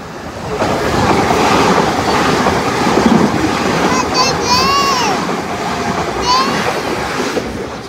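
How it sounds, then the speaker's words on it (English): A train rumbles through a railway station with a steady rolling roar and clatter, rising and easing over several seconds, and a faint squeal of wheels near the middle. "Right now we are in the train station right now waiting."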